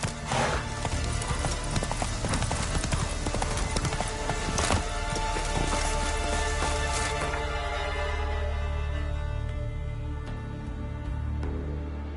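A horse gallops in the video game The Witcher 3, its hooves pounding in a fast, loud, rolling rhythm over game ambience and music, which gradually fade toward the end.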